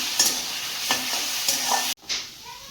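A masala with cumin powder is stirred and sautéed in a pan, a few scraping strokes sweeping through a steady close sizzle before the sound cuts off abruptly near the end.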